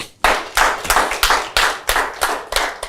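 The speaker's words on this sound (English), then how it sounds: "Let's clap for them again." Loud, close hand claps land in a steady rhythm, about three per second, like a small group clapping together in time.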